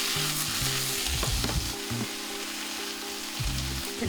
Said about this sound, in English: Nice little sauté.